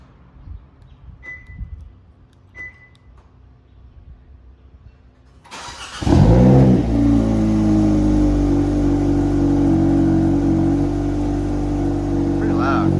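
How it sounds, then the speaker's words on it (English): A Hyundai Elantra N is cold-started: quiet clicks first, then the engine catches with a loud burst and settles into a steady, loud, high idle with a strong exhaust drone. "So this is what the exhaust sounds like on a cold start, kind of."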